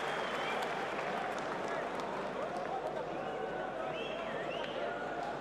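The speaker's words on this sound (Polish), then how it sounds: "Brawa cały czas, brawa dla Rickiego Burnsa" A boxing arena crowd applauds Ricky Burns during his fight with Paulus Moses, a steady, fairly distant wash of clapping and murmur running throughout beneath a commentator's voice.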